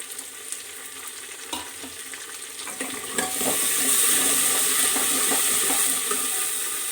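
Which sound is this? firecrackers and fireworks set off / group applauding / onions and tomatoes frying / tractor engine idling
onions and tomatoes frying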